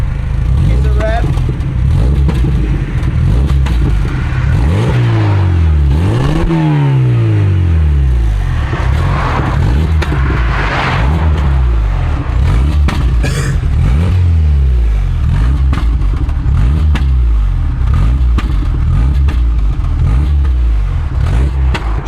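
A VW Golf Mk3 Variant with a newly fitted exhaust revs up and down repeatedly, the engine note sweeping up and falling back through several close, loud blips, with voices talking faintly underneath.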